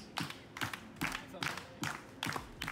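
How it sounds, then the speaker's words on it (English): An audience claps in unison in a repeated rhythmic pattern, with bursts of several claps landing about every half second. Voices come through faintly alongside the clapping. "Everybody clap like this."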